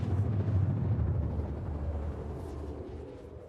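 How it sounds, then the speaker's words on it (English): Fireworks going off over a planet in a space video game during an in-game launch-week event: a continuous low, rumbling roar of distant booms that eases slightly toward the end, with no talking. "It's the fireworks. They're lighting up the whole planet."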